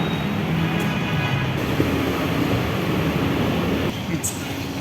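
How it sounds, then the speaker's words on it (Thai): Busy underground station ambience at Bangkok's Phahon Yothin MRT station: a constant roar of trains and crowd murmur fills the space, with a brief high squeal near the end. "ทางลงเอ็มอาร์ทีสถานีผลโยธิน"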